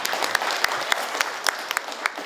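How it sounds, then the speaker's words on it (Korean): Audience applause at a Gyeongsangbuk-do provincial briefing hall, thanking a regional committee chairman after his presentation; a dense, steady patter of many hands clapping at moderate level, with a few sharper individual claps standing out. "우리 우동기 위원장께 뜨거운 박수로 감사드립니다"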